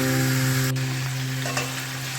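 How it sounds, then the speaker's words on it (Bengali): Mutton frying with onion and spices in a pan while being stirred, a close steady sizzle with scraping stirs, a low electrical hum underneath and no voices. "দেখো বন্ধুরা, কষাচ্ছি মাংসটা।"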